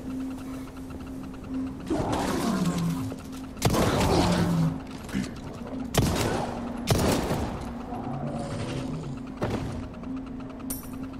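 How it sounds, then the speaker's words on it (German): Punisher pistol gunshots ring out in the video game Resident Evil 4 Remake as several loud, sharp blasts at irregular intervals, set over a steady hum and other in-game noises. "Zwei Schuss mit der Punisher."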